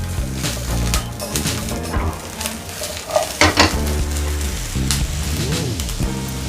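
Snakeskin gourami fish frying crisp in hot oil, with a steady close crackling sizzle and occasional stirring scrapes, over background music.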